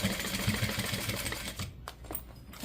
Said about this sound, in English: Pivot and sew down.